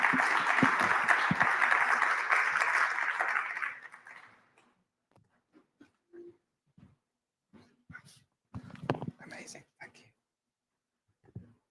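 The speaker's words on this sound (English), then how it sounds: "I would like to ask you to applaud all four of them for answering my questions" A conference audience claps for a panel of four speakers: a few seconds of dense applause fade out, followed by scattered small knocks and rustles in a quiet room.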